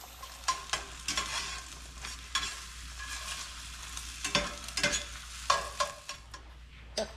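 Farm fresh eggs frying in butter in a pan: a faint, even crackle runs throughout, with repeated soft ticks and brief taps from a spatula or the pan, and no talking.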